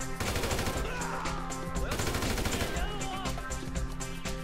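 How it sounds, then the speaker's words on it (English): Rapid gunfire from the video game Grand Theft Auto V: dense, overlapping bursts of shots rattle steadily for several seconds, loud and continuous, with game audio layered underneath. "Blindly shooting at me."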